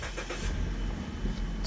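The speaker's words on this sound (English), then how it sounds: "start the car" A 2013 Mazda car with 114,000 miles cranks and its engine catches, a short rumbling start that settles into a steady idle close by with no talking.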